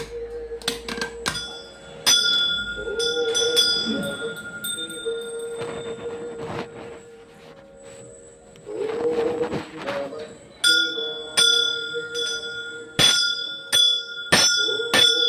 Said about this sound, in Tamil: அம்மா பெல் அடிச்சிட்ருக்காங்க பூஜை நடக்குது